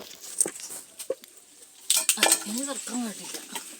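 A metal lid clanks onto a cooking pot holding a baking date cake with a couple of sharp knocks, followed by a person talking nearby.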